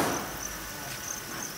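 Crickets bred for sale chirp in a steady, high-pitched trill against a quiet background.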